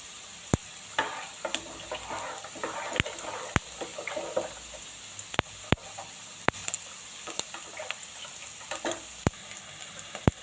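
Onion tempering spooned into drumstick-leaf sambar sizzles quietly. It sounds as a steady low frying hiss broken by sharp ladle clinks and stirring taps at irregular intervals, close by, with no talk.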